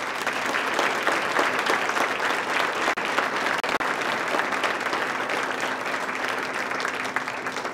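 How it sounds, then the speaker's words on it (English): An audience at a school appreciation reception gives students a sustained round of applause, dense and steady clapping filling the room for several seconds with no talking. "So please give the students another round of applause."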